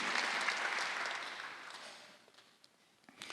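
A church congregation at Sunday worship claps together, a full burst of applause that gradually fades over a few seconds to scattered claps.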